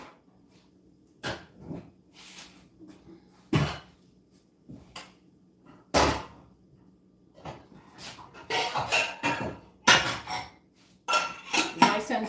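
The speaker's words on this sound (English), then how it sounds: "Let me get another saucepan." Pots and pans clanking and knocking together as a saucepan is pulled out from among them, in scattered sharp metallic bursts separated by pauses, close and fairly loud, with busier rattling toward the end.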